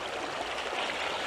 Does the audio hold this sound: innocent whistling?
no